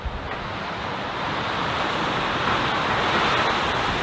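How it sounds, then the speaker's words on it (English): Strong wind roars steadily outdoors on a mountain hike, buffeting the microphone with a dense, continuous rush that builds slightly toward the end. "look how windy it is"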